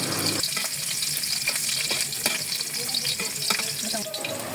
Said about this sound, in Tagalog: Una nating inilagay ay ang mantika, kasunod nito ay ang bawang, at isusunod ko na din po ang sibuyas.